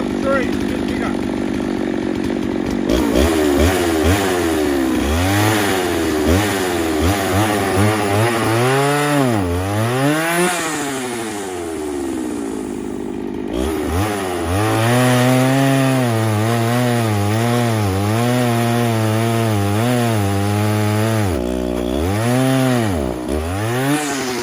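Dolmar 152 chainsaw, revived after an ignition repair, cutting into a tree outdoors: the engine idles, then revs up and bogs repeatedly under load in long rising and falling sweeps, loud and close.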